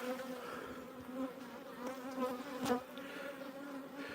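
Honey bees buzz continuously around backyard hives being fed sugar syrup, a dense droning hum of many insects close by, with no voices.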